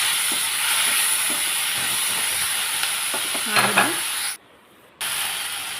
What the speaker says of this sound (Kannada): ಇವಾಗ ಅದನ್ನು ಚೆನ್ನಾಗಿ ಫ್ರೈ ಮಾಡಬೇಕು ಎರಡು ನಿಮಿಷಗಳ ಕಾಲ ಫ್ರೈ ಮಾಡಿ